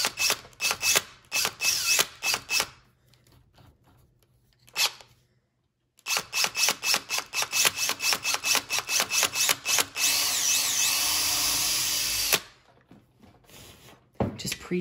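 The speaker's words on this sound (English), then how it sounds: "I'm gonna actually just pre-drill" A power drill pre-drills a hole in wood, whirring in rapid pulsing bursts, stopping and starting several times, loud and close, with a longer continuous run near the end.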